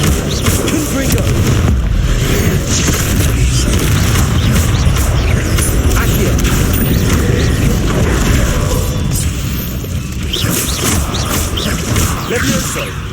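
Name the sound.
Confringo fire spell exploding in the video game Hogwarts Legacy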